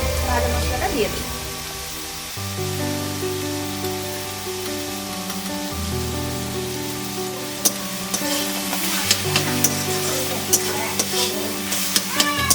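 Palak spinach sizzles in a pan over a wood fire as a fried spice mix is added and stirred in. A steady crackling fry runs throughout, with scraping stirs and a voice speaking over it.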